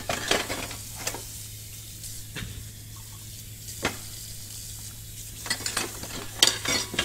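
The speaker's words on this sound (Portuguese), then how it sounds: "Vamos lavar a louça." Dishes washed at a kitchen sink in the horror video game Emily Wants To Play Too: soft splashing and scraping under a steady low hum, with sharper clinks and clatters standing out near the start and toward the end, no voices.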